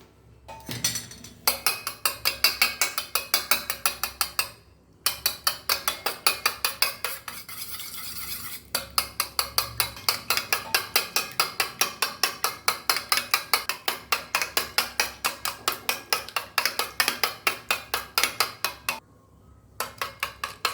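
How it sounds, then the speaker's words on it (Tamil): Raw egg with a pinch of salt is whisked in a bowl for a bread omelette, the utensil clinking rapidly and steadily against the sides, with two brief pauses between runs of beating. "கொஞ்சம் உப்பு போட்டு நல்லா கலக்கிக்கிடணும்"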